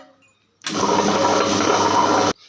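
A wet grinder runs loudly while grinding soaked rice for idli batter, a steady dense whirring rumble that starts abruptly and cuts off after under two seconds.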